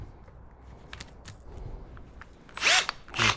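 A power drill set to hammer mode, used while working on an old 4HP outboard motor of about 41 years, gives two loud, close whirring bursts near the end, after a stretch of quieter handling noise.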